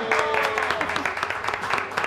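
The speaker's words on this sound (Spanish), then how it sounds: "Un aplauso para Tracy." Studio audience on a Spanish-language morning TV pet segment clapping for a guest named Tracy, a short burst of applause mixed with voices talking over it.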